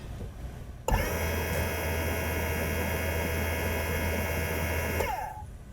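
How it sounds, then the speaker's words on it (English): The air pump for the dynamic seats in a Mercedes C216/W221 runs in the trunk, starting abruptly and holding a steady loud motor hum and whir for about four seconds before cutting off. Nobody speaks. "The pump works, you can hear it."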